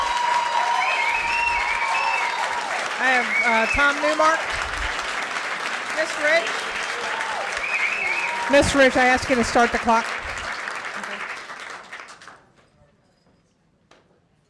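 Loud, sustained applause from an audience at a public comment meeting of a board of education, with a voice speaking over it before the clapping fades out toward the end.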